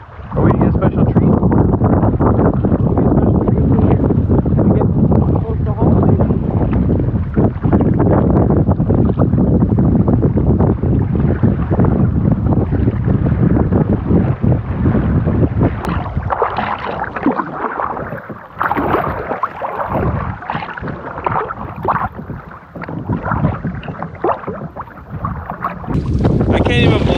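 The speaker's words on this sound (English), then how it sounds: "Just getting blasted with wind." Strong gusts of wind roar into the microphone during a wilderness canoe crossing with a dog aboard, a loud, continuous buffeting that dominates and eases slightly toward the end, with faint water sounds beneath.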